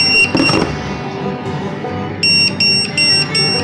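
Wireless restaurant queue pager giving a loud electronic alarm, starting with a shrill tone then four evenly spaced bright beeps near the end, over a buzzing vibration hum, very close.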